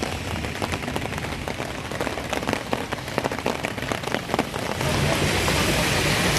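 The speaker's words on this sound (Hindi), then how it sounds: "गरज चमक के साथ शुरू हुई बारिश के दौरान ओलावृष्टि भी हुई" Heavy rain pours steadily on surfaces in Jabalpur, broadband and dense with scattered sharper impacts that may be hailstones, growing slightly louder near the end; no clear thunder stands out, and no one speaks.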